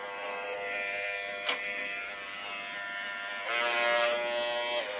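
An electric hair clipper buzzes steadily and close up as it cuts hair, with a brief sharp click partway through and a louder, denser stretch of cutting near the end.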